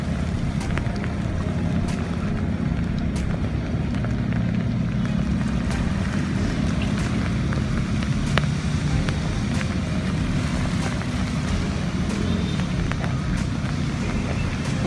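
Steady rain hisses across Manila Bay, a wide open space, with scattered sharp patters and a low rumble of distant traffic beneath.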